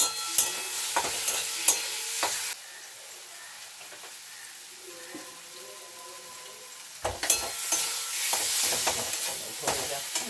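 Onions and spice paste frying in a pan for fish egg curry, giving loud crackling sizzle with sharp stirring scrapes at the start and end, quieting to a soft hiss in between.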